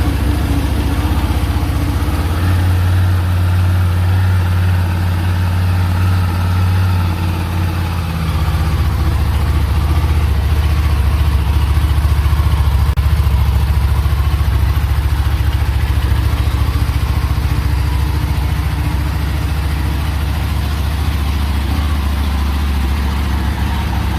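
Buell 1125 motorcycle V-twin idling steadily after warming up, a close, continuous low rumble with a slight change in tone partway through, running alone without talk for the whole stretch.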